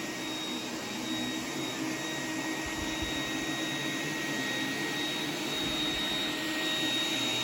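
An iRobot Roomba 980 robot vacuum runs close by with a steady motor whine and brush hum, going back and forth over a dirty patch several times, continuous and fairly loud with no talk.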